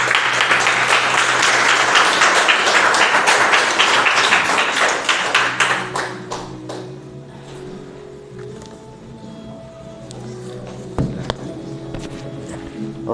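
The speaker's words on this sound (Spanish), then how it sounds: "Demos un aplauso al Señor" A church congregation applauds at a worship service, loud clapping that swells for about five seconds and then thins to scattered claps, a few taps and a quiet murmur.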